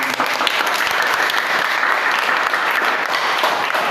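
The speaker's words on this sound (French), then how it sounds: "Maintenant, applaudissez-vous vous-même." Dense, sustained audience applause fills the whole span at steady loudness, with no voices rising above the clapping.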